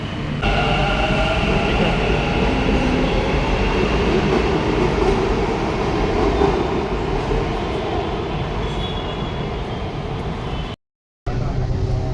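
A Bangalore metro train runs with a steady, loud rumble and rattle of carriages on rails, continuous throughout before cutting out briefly near the end.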